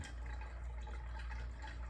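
Water leaks and drips from a loosely tightened homemade straw fountain device, a faint close trickling with soft liquid patter and no voices.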